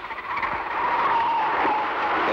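Racing cars lap the circuit in the 1965 Armstrong 500, with a loud engine roar that swells and holds briefly as the cars hurtle past.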